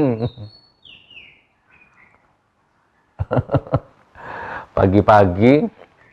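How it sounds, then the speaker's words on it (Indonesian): Morning birds chirp and whistle in high, sweeping tweets, then someone speaks over them while the calls continue more faintly. "Subhanallah, suara burung."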